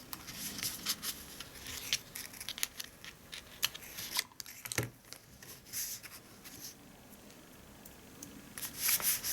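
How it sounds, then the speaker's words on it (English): Scissors snip through ribbon on a handmade gift box, a series of close, crisp cuts and rustles amid light handling noise. "I'm just going to cut that ribbon because that's sticking out."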